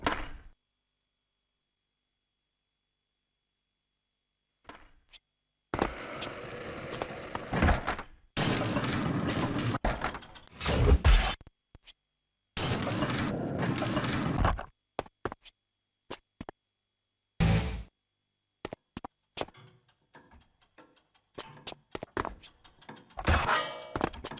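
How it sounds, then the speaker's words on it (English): Gates opening in Tony Hawk's Underground: heavy clanking and thunking mechanical bursts come in several long stretches, separated by sharp knocks and pauses. "Those suckers open the gates."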